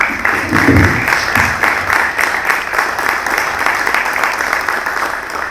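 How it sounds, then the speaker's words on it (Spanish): An audience at a book presentation in the Faculty of Law of the University of Buenos Aires claps steadily, a sustained round of applause filling the room at moderate volume with no voices. "pidiendo por favor que lo recibamos con un muy fuerte aplauso"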